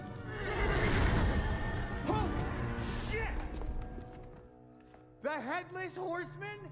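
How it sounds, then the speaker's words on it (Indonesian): A horse, ridden by a headless rider, neighs in a film scene: a rising and falling whinny comes near the end, after a loud, busy passage with a voice talking over it. "Namun ketika ia melihat kuda beserta penunggang tanpa kepala, Jack pun sangat terkejut"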